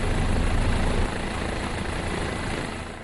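A helicopter near the ancient Mayan city of Mirador, its engine and rotor making a loud, close, continuous roar that eases slightly partway through, with no one talking.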